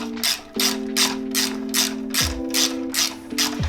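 A 5mm Allen key works a rearset bolt loose on a 2018 Aprilia Tuono Factory motorcycle, giving a steady run of close, evenly spaced ratcheting clicks over a low mechanical hum.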